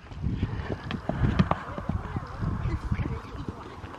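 Horse hooves clip-clop around a riding arena as a rider posts at the trot, a steady rhythmic thudding under a coach's voice and other talk.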